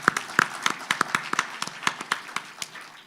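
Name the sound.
audience applause at lecture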